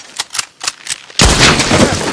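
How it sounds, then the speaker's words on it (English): Gunshots ring out in Red Dead Redemption as Sean's rope is shot free: four sharp, evenly spaced cracks, then a loud sustained burst of rapid gunfire with no talking. "Shoot out Sean's rope for extra style points"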